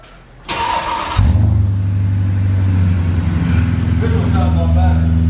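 A Mercedes-Benz car is started from cold: a starter whirs briefly, then the engine catches into a loud, deep idling rumble that settles and holds, with people talking faintly over it.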